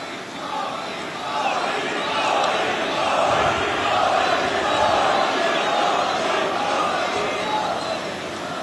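A large outdoor rally crowd welcoming Prime Minister Narendra Modi in Jabalpur roars with sustained cheering and shouting, a dense, loud wash of voices and applause from start to end.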